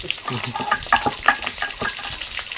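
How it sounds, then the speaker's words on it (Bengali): Pointed gourd pieces frying in a pan, a busy crackling sizzle broken by repeated stirring scrapes and clinks, heard up close. "পটলগুলো খুব ভালো করে ভাজা হয়ে গেছে"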